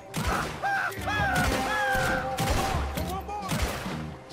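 Gunfire from the Red Dead Redemption 2 video game: a dense, continuous volley of shots and thumps throughout, mixed with game music and voices talking over the fighting.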